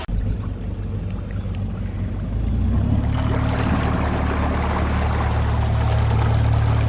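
Water draining out of a narrowboat canal lock makes a constant heavy rushing and gurgling roar that swells louder partway through and then holds steady.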